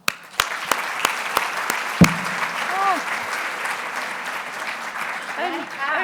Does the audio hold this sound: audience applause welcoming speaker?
yes